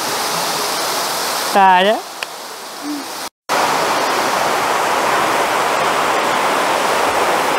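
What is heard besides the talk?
waterfall inside a cave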